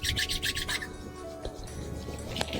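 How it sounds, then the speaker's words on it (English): Palms rubbed briskly together in a short run of quick swishing strokes at close range, which then fade into a soft, quiet friction. "Rub your palms physically together now."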